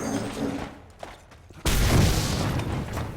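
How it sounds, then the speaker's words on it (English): A blast in the post-apocalyptic Mad Max video game, a sudden loud, dense rumble that cuts in abruptly after quieter mechanical ambience and holds for well over a second. "Oh, it was a fun explosion."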